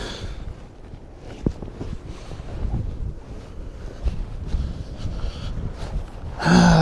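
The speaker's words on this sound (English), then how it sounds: "This wind is blowing so much down here" Strong wind buffets the microphone in rough, rumbling gusts in Finland or Iceland, continuing throughout and swelling to a loud blast at the very end.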